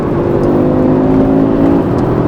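An Audi RS3 8Y engine pulls hard under steady acceleration, a loud continuous drone and whir heard from inside the car, with no voices.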